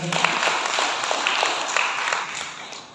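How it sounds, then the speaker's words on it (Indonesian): Audience applause at a public dialogue forum with community stakeholders: dense, steady clapping from a roomful of people filling the moment, fairly close and unbroken throughout. "Boleh tepuk tangan untuk Pak Sidan"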